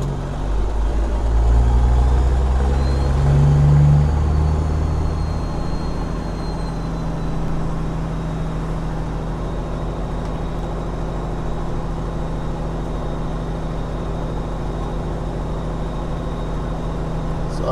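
A produce truck hauling a heavy load of watermelons downshifts, its deep engine rumble swelling briefly before settling into a steady, loud drone.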